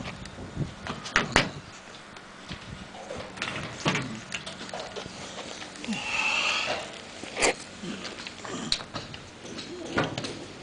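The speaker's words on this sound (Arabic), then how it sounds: "هنفتح اللوحه" A villa's electrical distribution panel, housing the main meter and main cutoff switch, is opened with several close metallic clicks, clunks and a scraping cover movement amid faint room noise.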